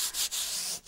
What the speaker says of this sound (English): the sanding really kind of starts showing those features